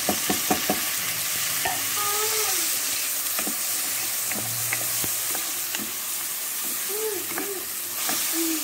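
Macaroni fries in a pan with steady sizzling while corn is tipped in, followed by repeated clinks and scrapes of a spatula stirring, with a short quiet voice partway through.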